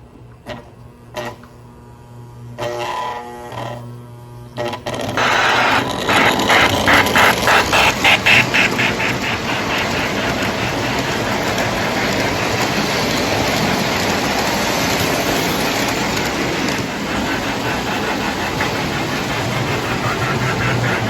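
A steady mechanical rumble and clatter of a Lionel 6200 turbine model train locomotive running continuously on a layout, with rhythmic clicking from the wheels, after a few quieter starting sounds with slight wheel slip.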